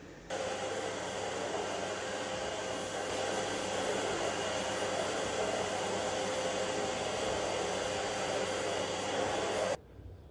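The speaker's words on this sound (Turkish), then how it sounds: "Bu süpürgeyle de ben de mutfağı süpürüyorum ve işim bitiyor." A household vacuum cleaner runs steadily while sweeping a kitchen floor, a loud continuous broadband whoosh with a constant motor tone that holds for about nine seconds and then cuts off abruptly.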